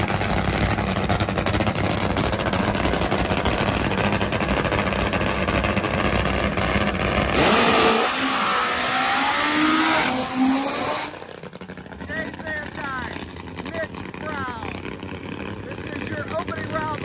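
Top Fuel drag motorcycles roar loudly down the track at Virginia Motorsports Park during eliminations, a harsh sustained blast of engine noise that later drops back, with a commentator talking throughout.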